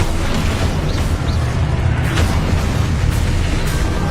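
Spell explosions cast in the video game Hogwarts Legacy roar as a dense, loud, continuous wash of booming blasts and crackling bursts with no break.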